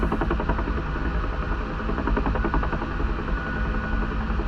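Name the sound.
UH-1H Huey helicopter flying, from video game DCS World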